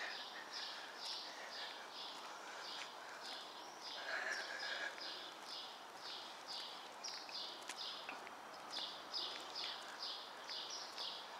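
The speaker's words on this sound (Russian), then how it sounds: "Птички поют на деревьях." Small birds singing in trees in a northern Moscow woodland, their repeated high chirping phrases faint and distant over steady outdoor background hiss, with no voices.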